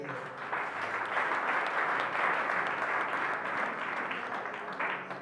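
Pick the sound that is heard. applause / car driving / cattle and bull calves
applause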